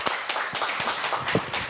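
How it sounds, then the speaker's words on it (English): Scattered audience clapping at an opening ceremony, a loose patter of claps with no full swell, moderately loud and close, without talk over it. "So big round of applause."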